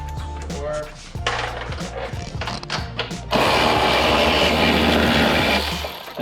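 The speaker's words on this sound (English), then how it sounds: "Thank God you got a drill." A power drill whirs in steady bursts as it backs fasteners out of a Lexus IS F front bumper, the noise growing loud and continuous toward the end, with a few voices talking nearby.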